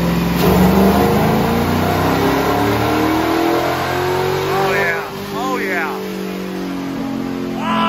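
A bone stock 5.3 engine run on a dyno with nitro fuel roars loud and close, its pitch climbing steadily under load, dipping briefly and then rising again, with voices talking over it.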